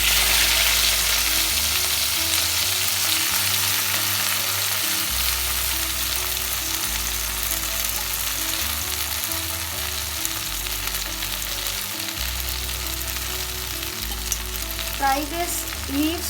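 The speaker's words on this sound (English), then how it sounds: "Fry these leaves for at least 10 minutes so that it becomes soft and mashy." Gongura leaves frying in hot oil give a loud, continuous sizzle with crackling throughout, steady and close, with occasional stirring scrapes.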